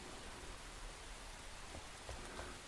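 Soft, steady rain hiss in the video game Enshrouded with faint scattered droplet patters, a quiet, even wash of noise and no talking.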